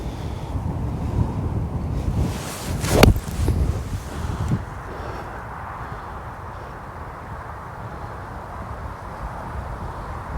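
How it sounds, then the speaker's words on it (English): Gusty wind rushes across an open golf course, a broad steady roar with a stronger buffeting burst near the start that settles into a constant low rumble. "lot of wind, sort of helping, sort of off the right"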